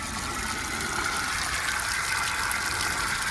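A bilge pump on an old, restored hunting and fishing boat is switched on and pushes out water in a steady, continuous gush, close and fairly loud, with no talk.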